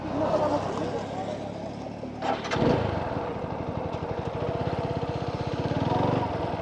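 A motorcycle engine drones on a four-lane highway, a low, steady throb that grows more rhythmic and slightly louder midway, with someone talking over it throughout.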